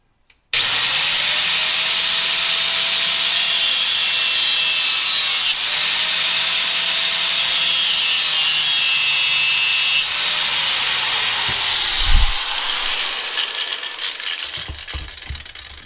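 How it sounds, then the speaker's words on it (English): A power grinder working on a window motor part from a 2001 Toyota Camry, a loud sustained whine with slight pitch dips for about twelve seconds, then spinning down into clatter and handling noises. "let's try to grind this out with the grinder and let's see if it works"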